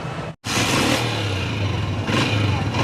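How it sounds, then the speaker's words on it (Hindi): A 2007 Honda 125 motorcycle idles on its stand, a steady continuous engine drone that runs close and loud for the whole stretch with one brief dropout near the start. "बाइक स्टार्ट है कंटिन्यूसली, बाइक खड़ी स्टार्ट, अपने रिदम में इंजन।"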